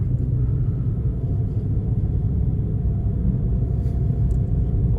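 A 2017 Mitsubishi Mirage driving around a cul-de-sac, giving a steady low engine and road rumble from inside the cabin, continuous and moderately loud with no talk.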